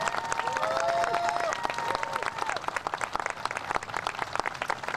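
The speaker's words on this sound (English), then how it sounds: "I'm going to ask just a warm round of Chicago's applause for Mr. Vasquez from the Keith Haring Foundation" A warm round of applause from an outdoor crowd at the ribbon cutting of Chicago's AIDS Garden, dense clapping at first that thins into scattered claps, with a few voices and cheers mixed in.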